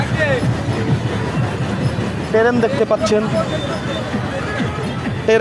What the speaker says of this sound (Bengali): এপার এসে দেখেন এই যে ট্রেন